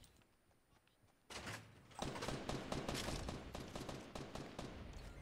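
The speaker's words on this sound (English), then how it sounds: "Oh, I hear gunshots." Gunfire in the video game Fortnite crackles in rapid bursts, a sharp onset followed by dense, repeated shots that continue loudly to the end.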